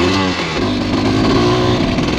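A KTM motorcycle engine runs loud and close while being ridden, a continuous buzzing drone with the pitch shifting as the throttle changes.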